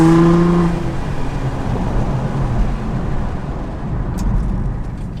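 A car is driven and braked hard after new brakes were fitted: a loud, steady road and engine rumble with a brief tonal whine at the start that eases away, and no talk.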